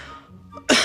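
A 9-month-old baby gives a single short, sharp cough up close after a quiet moment.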